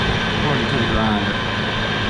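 A grinder running at about 600 RPM polishes an aluminum toolbox, giving a steady, broadband whirring drone with a rubbing hiss, continuous and fairly loud for the whole short stretch.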